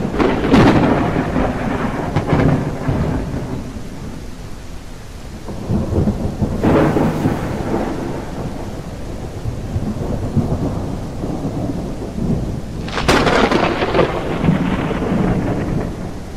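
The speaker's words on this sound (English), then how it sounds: "And it's down, it's pouring raining." Heavy rain in the video game Backrooms Rec. pours steadily throughout, broken by several loud rolling thunderclaps, with sharp cracks near the start, around seven seconds, and again near thirteen seconds.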